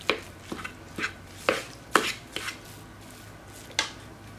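A utensil works through minced pork with salt in a bowl, giving a close series of irregular knocks and scrapes against the bowl, about eight strokes over four seconds, with no talk.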